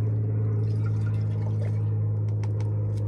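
Water pours steadily into a 12-ounce cup while lye soap is being made by the hot process, a continuous close splashing fill lasting about three seconds over a low background hum, with no talking.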